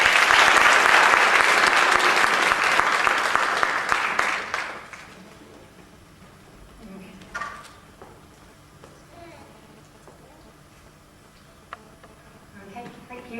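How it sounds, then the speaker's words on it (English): Loud, dense audience applause fills the first four seconds, then fades quickly to a quiet room with a few faint scattered sounds. "round of applause."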